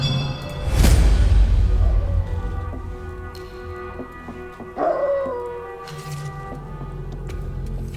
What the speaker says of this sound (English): We're just gonna kill this crazy dog.